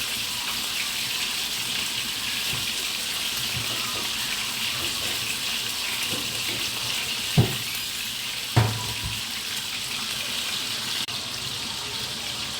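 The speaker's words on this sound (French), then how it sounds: "ça bouge tout doucement. Je laisse bouillir." Cassava leaves in peanut sauce simmer gently in a pot, a steady soft bubbling hiss with a couple of faint knocks, and no talking.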